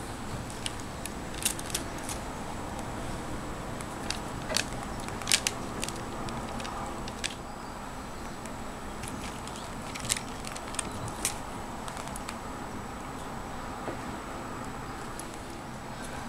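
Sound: cutting hard lemon lavender cold process soap

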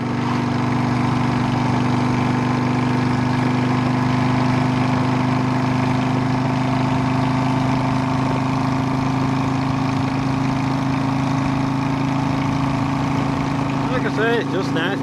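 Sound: motorcycle engine running on the road

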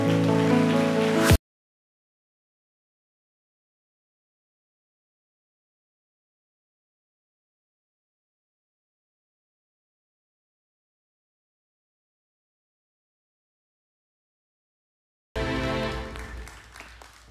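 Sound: audience clapping to welcome the pastor

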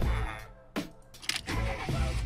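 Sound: car engine starting in video game

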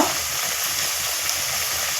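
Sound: frying potato-stuffed tiffin snacks until crispy

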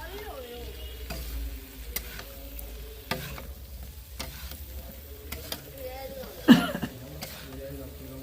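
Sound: stirring potatoes and spices while cooking

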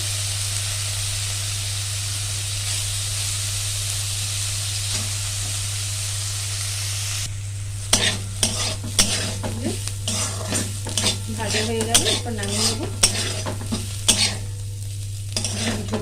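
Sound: frying bottle gourd peel with a little potato

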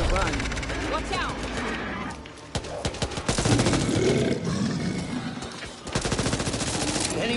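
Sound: gunfire in video game Back 4 Blood

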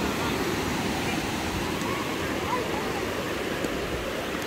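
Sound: water waves, seen by a family on an outing

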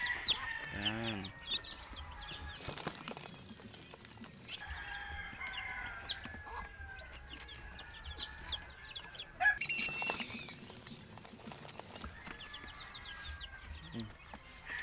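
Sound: chicks and chickens clucking

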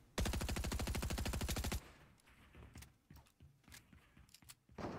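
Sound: gunfire in Fortnite video game

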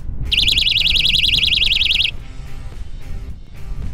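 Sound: Mace personal alarm wristlet sounding

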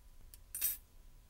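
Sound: spatula scooping ammonium salt into a test tube

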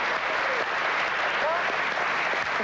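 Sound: studio audience applause

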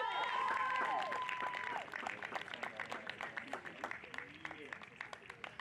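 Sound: crowd applauding soccer players on senior day

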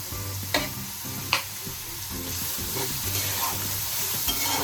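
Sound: onion frying with salt in a pan

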